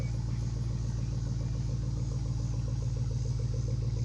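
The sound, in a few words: car engine cold start idling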